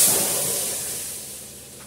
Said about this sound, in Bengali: এটা আমি জল দিয়ে বসিয়ে দেবো, দিয়ে দেবো।